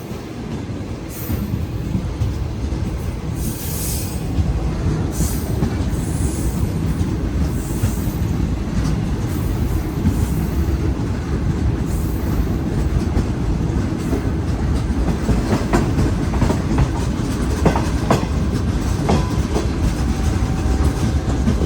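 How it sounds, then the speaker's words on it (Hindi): Shalimar Express rolls slowly through Khanewal junction and yard, a loud, steady rumble of wheels and carriages with rhythmic clickety-clack and faint metallic squeals running continuously for over twenty seconds, with no voices. "अब हमारी ट्रेन जो है खानेवाल इंटर हो रही है, मगर इस ट्रेन का यहाँ पर स्टॉप नहीं है, गुजर जाएगी स्लो स्लो"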